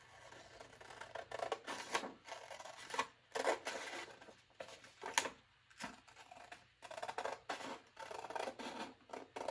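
Scissors cut through paper in repeated snipping strokes, a series of sharp, crisp bursts with brief pauses between them, close and fairly quiet with no talking.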